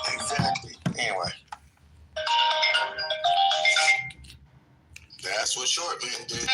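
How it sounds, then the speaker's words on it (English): A mobile phone ringtone plays in loud melodic bursts with short gaps between phrases, close and clear, interrupting a podcast conversation. "Thanks for letting us hear your other phone, Jim"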